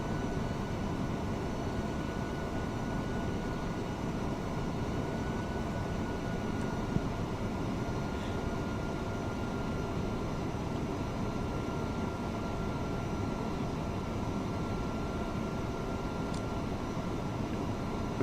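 Airbus A300F4-200 freighter engines drone in the Prepar3D flight simulator, a steady, unbroken roar with a faint high whine running through it.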